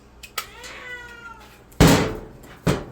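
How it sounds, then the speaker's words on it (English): A cat yowls loudly from close by, a drawn-out wavering cry followed by sharp bangs and knocks, as if from inside an appliance during a dryer repair. "I don't know why the cat's screaming like somebody's trying to murder him."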